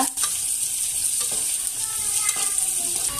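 Dried goat meat pieces frying in hot oil with gongura leaves, giving a loud, steady, dense sizzle with a few stirring scrapes, close up and without talk.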